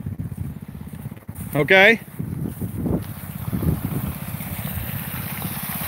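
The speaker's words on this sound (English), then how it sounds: "That engine's running about 1/3 of its max speed there. It's running a lot slower." Trash pump engine throttled down to about a third of its top speed while pumping pond water, a steady low mechanical drone with splashing water running throughout, and a voice briefly speaking over it near the start.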